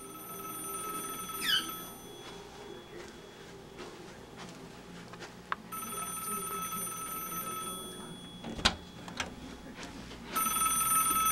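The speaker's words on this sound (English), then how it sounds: "service phone's ringing" A telephone rings in bursts of steady electronic tone, with pauses between rings and some clicks and background noise in the room.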